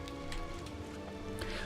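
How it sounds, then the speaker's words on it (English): Rain in the video game Valiant Hearts falls steadily into the mines, a dense, even patter with a few brief sharper drips over a low ambient rumble. "With this rain coming down into the mines"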